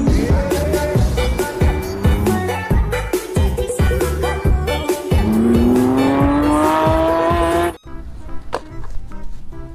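A toy Lamborghini car plays engine and tire sound effects: loud rapid revving pulses, then a rising whine and squeal that cuts off sharply, followed by quieter clicks and taps.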